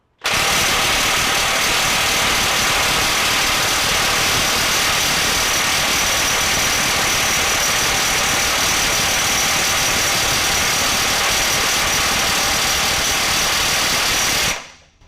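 DeWalt DCF900 high-torque impact wrench on a fresh 9.0 Ah FlexVolt battery in mode 3, running loud and steady for about fourteen seconds as a continuous buzzing hammer without pause, with no one talking.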